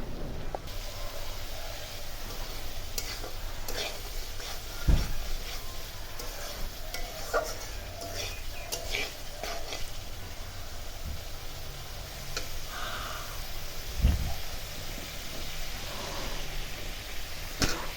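Spice masala being stir-fried in a pan for a taro (kochu) dish, with a continuous close sizzle under repeated spatula scrapes and a couple of louder knocks against the pan.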